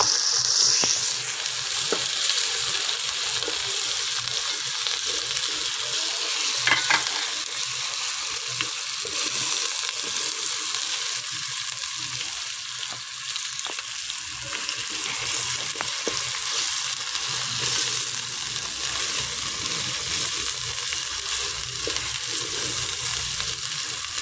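Garlic, ginger and green chillies frying with vegetables in a pan, a steady, loud, even sizzle that runs unbroken throughout, with a few faint stirring scrapes and no talk.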